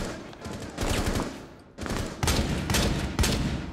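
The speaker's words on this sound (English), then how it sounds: "This designated marksman rifle sounds." A designated marksman rifle firing in Rainbow 6 Siege, several sharp shots in two quick clusters with a short pause between, close and loud.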